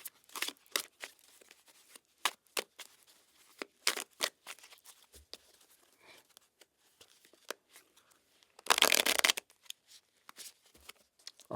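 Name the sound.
shuffling a deck of tarot cards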